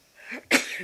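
Single sneeze from a person at a town council meeting, a short inhaled buildup followed by a sharp, loud burst, close to the microphone.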